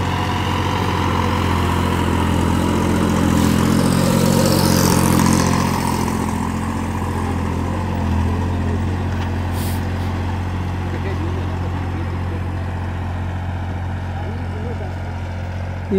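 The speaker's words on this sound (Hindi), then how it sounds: "करीब 17 मिनट हो गए भाई ट्रैक्टर निकालते हुए" A Massey Ferguson 9500 Smart diesel tractor engine runs steadily at a low, even rumble around 1800 RPM for the whole stretch, nearby and loud.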